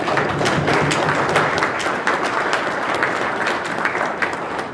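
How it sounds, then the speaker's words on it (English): Audience applause for an ambassador at an annual awards dinner. It is a sustained, fairly loud patter of many clapping hands with a few sharper claps standing out, easing off slightly toward the end. "Did I stop somebody from applauding Ambassador?"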